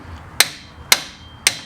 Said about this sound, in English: I used a hammer and a wrench to break it free